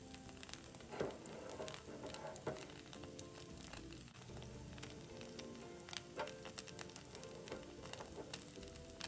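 Pan-fried dumplings with a lacy skirt sizzling over low heat as the water cooks off, a quiet, steady crackle with sporadic sharper pops and spits throughout.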